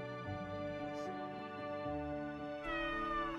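A Russian blue cat meows in an indie video game trailer, a drawn-out, strained cry over a sustained musical backing that grows louder near the end.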